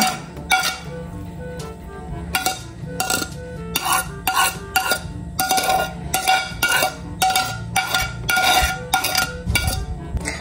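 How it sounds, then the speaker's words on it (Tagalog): Lumpia filling of carrots, celery, garlic and onion stirred in a bowl, with repeated clinking scrapes of a utensil against the dish in an irregular steady rhythm, close by. "Ito po ay akin lang pong imimix."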